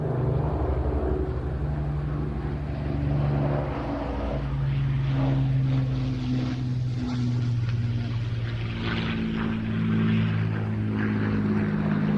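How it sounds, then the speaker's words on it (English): An Avro Lancaster bomber makes a low pass at an evening air show, its piston engines giving a loud, sustained drone with a wavering pitch that holds steady across the whole stretch. "with the Lancaster, this will probably be his penultimate, if not his final pass"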